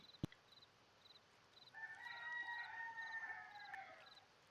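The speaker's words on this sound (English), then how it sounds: "You can hear the roosters in the background." Distant roosters crow in drawn-out calls on Kauai, faint over a quiet outdoor background with soft repeated chirps and a sharp click near the start.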